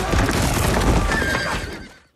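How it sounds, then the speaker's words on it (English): Horses neigh and hooves pound during a cavalry charge in a film battle scene, with a loud, dense rush of hoofbeats and a whinny rising over it before the sound quickly fades out. "the unceasing hoofbeats of the Rohirrim"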